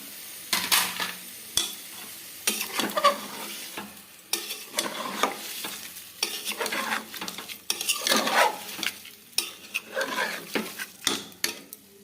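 Paneer fries in a pan amid clatter: a soft sizzle runs under repeated spatula scrapes and metallic knocks against the pan, close and uneven in rhythm, with no speech.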